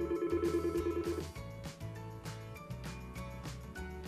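A Yealink T48G desk phone plays its electronic ringtone, a quiet, melodic sequence of short tonal rings repeating steadily.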